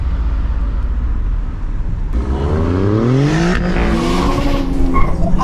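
A turbocharged rear-wheel-drive sports car engine revs hard and climbs through the gears, loud and close, with a rising whine and a tire chirp over steady road noise.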